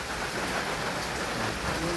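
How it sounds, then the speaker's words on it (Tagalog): Steady rain pours down outdoors around a yard heaped with old computer junk, a dense continuous hiss close by and fairly loud, with no voices. "Ulan!"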